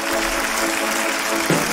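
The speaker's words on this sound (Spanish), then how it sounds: "un aplauso" A live studio audience breaks into brief, dense applause after a magic trick, a loud, even wash of clapping.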